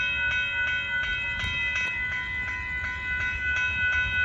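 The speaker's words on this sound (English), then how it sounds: "Here comes a really late Amtrak Texas Eagle 21 train." A late-running Amtrak Texas Eagle 21 passenger train approaches the Dittmar Road crossing in Austin, Texas: a steady low rumble with sustained tonal hum and faint rhythmic rail clicks, no voices.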